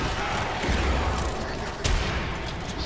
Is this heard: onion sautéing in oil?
no